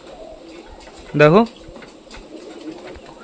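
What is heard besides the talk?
pet pigeons cooing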